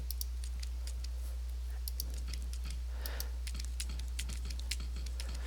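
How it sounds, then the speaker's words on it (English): Computer keyboard keys are pressed in a quick, irregular run of crisp close clicks over a low steady hum. "Now, if I'm pressing the S key on the keyboard, watch this."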